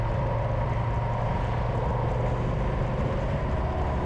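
A Honda NT1100 motorcycle engine drones steadily and loudly at close range, a continuous low growl under heavy wind rush with no voices over it.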